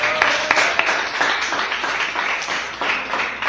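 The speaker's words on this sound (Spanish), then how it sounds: "Denle un aplauso al Espíritu Santo en esta mañana." A church congregation applauds during a service, many hands clapping in a dense, steady patter that fills the room for a few seconds.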